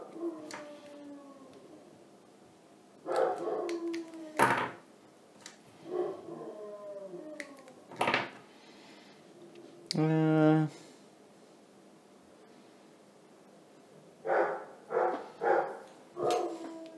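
A dog barks, yips and howls in separate bursts, a long howl standing out midway, with quiet gaps between them and faint human speech here and there.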